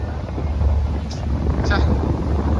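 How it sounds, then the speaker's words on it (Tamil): Strong, breezy wind at Hussain Sagar Lake in Hyderabad during the monsoon season, a steady low rumble buffeting the microphone throughout with faint distant sounds above it and no talk. "இங்கே காற்று செம்மையாக அடிக்குது, ப்ரீஸியாக இருக்குது"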